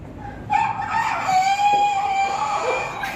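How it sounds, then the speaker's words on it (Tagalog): A rooster crows once, a loud and clear cock-a-doodle-doo drawn out over about three seconds, close by with no talk over it. "Rooster."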